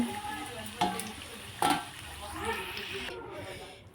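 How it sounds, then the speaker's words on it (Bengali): Potatoes fry in hot oil in a wok, a continuous soft sizzle with a couple of sharp scraping stirs, steady and close at moderate level. "আলু আমাদের লাল লাল করে ভাজা হয়ে গেছে"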